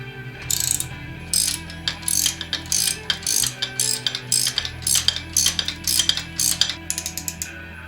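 A 17 mm ratcheting wrench clicks in rapid, regular bursts while turning engine mounting bolts during an engine swap, close and distinct over a low steady hum.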